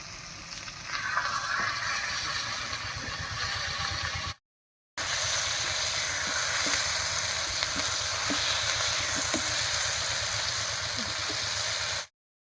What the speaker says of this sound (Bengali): মাছটার নিচের পিঠটাও ভাজা হয়ে গেছে। এবারে হালকা হাতে একটু নাড়িয়ে নেব।